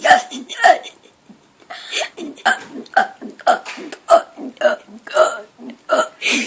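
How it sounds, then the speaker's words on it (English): A girl burps over and over, loud and close, in a quick steady string of about a dozen gulping belches. "She can burp 100 times, and to prove it, let's do it."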